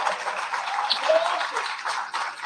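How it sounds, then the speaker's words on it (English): An audience at a town hall candidate forum in Shreveport applauds the candidates, producing a brief burst of steady, moderately loud clapping. "let's give all of our candidates a round of applause"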